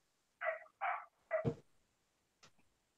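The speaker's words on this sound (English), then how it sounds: "there's a next door neighbour's puppy that's constantly barking" A neighbour's puppy barks three quick times in a row, then gives a softer yip a moment later, fairly near and clear against a quiet background.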